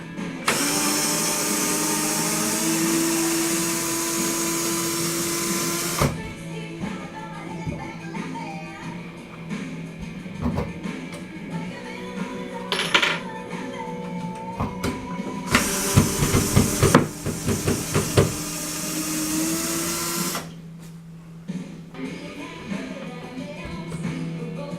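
A heavy-duty screw is worked out of a shelf with a power driver in several bursts. Each one gives a whirring motor whine, and rattling clatter and hiss fill the gaps, all close and fairly loud.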